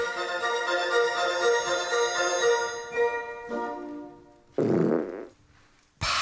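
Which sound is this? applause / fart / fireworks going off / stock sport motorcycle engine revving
fart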